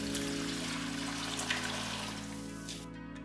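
Aquarium water scooped and poured from a reef tank into a container, a steady close trickling splash running throughout with a constant low equipment hum underneath.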